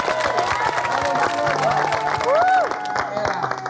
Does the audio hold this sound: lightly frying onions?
no